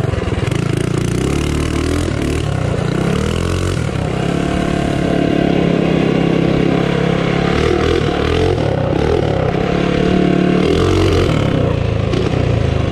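A Tillotson 212 engine on a Baja Warrior minibike revs loudly and close by, its note rising and falling and stuttering as it breaks up under throttle.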